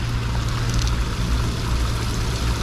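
Clear water pours and flows from an outlet at a mountain spot, a loud, steady rushing wash close by, unbroken from start to finish with no talk over it.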